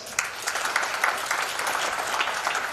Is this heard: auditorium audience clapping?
yes